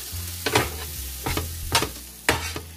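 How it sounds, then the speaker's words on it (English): Diced tomatoes are stirred into a sizzling corned beef mixture in a frying pan, with three distinct scraping stir strokes over a constant close frying hiss. "I'm gonna add my nice, beautiful diced tomatoes. And I'm just gonna incorporate those right up in the mixture"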